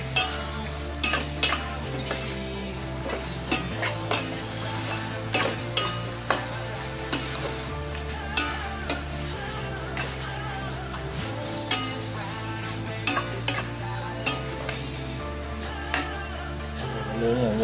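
Food frying and sizzling in a pan, a steady bright hiss broken by repeated clinks and scrapes of a utensil stirring it, close and fairly quiet, with no talking.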